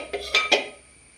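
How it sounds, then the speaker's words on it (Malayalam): A metal spoon clinks three times against a cooking pot while gravy is spooned over prawn biryani rice, close and crisp, followed by a quiet tail. "ബാക്കി പകുതി ഗ്രേവി നമുക്ക് ഇതിൻ്റെ മീതേക്ക് കൊടുക്കാം. റൈസിൻ്റെ മീതയിലേക്ക് ഇട്ട് കൊടുക്കാം."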